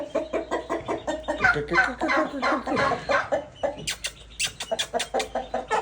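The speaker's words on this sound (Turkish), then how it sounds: "Horozmuş bu." A rooster clucks and calls in rapid repeated bursts nearby, loud and steady, ending with sharper higher-pitched clucks.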